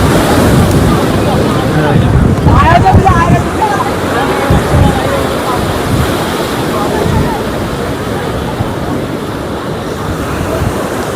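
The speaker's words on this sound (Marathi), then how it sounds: "आता लाट किती मोठी आली बघा. ही लाट वरती येऊ शकते." Big monsoon sea waves crash against the seawall at Marine Drive, Mumbai, a loud, continuous roar and surge with strong wind buffeting the microphone and faint crowd voices in the background.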